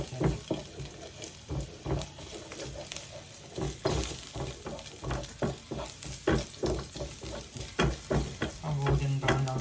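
Garlic fries in a pan, crackling steadily with frequent spoon stirs and scrapes against the metal throughout.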